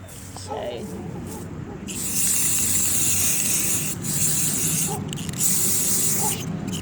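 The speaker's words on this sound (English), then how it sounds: "I'm going to go ahead and spray the rim of this." An aerosol spray paint can hisses in bursts outdoors as paint is applied to a rim, two long sprays with brief pauses between them.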